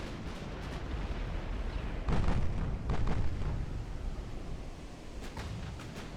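Naval gunfire from 12-inch and 9-inch guns in the game Ultimate Admiral Dreadnoughts, heard as a dense, continuous rumble of heavy booms with a few louder blasts standing out.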